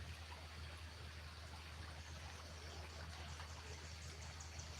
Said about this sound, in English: The water is moving a bit too fast.